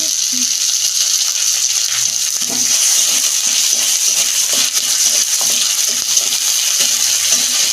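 Cinnamon, cardamom, cloves, ginger-garlic and tomato hiss in hot oil, a loud, dense, steady sizzle up close with faint clinks of a spoon in the pan.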